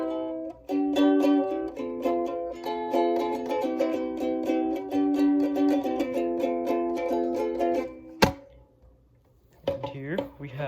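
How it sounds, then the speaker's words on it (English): A ukulele strums a run of bright, repeated chords up close for about eight seconds, ending with a sharp percussive hit, followed by quieter plucked notes. "Here is a ukulele, and it sounds like this."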